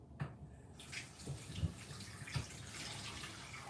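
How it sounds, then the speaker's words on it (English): Water runs steadily and splashes while something is rinsed with chlorine water during burger bread preparation. The sound is soft and continuous, with a few dull knocks from a basin or container and no talking. "So I'm gonna use the chlorine water to rinse it"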